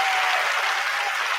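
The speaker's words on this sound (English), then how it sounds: "Can you applaud him?" A short burst of dense audience applause in a live talk show studio, steady clapping from a crowd with no voices over it.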